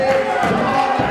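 Crowd noise at a live wrestling show, a steady roar of cheering and shouting from the audience filling the arena without a break across the short moment.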